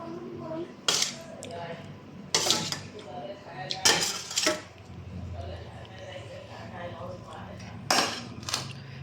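Curries are served from several pots onto a plate of rice, with spoons clinking and scraping against metal in a few sharp bursts while a person talks throughout.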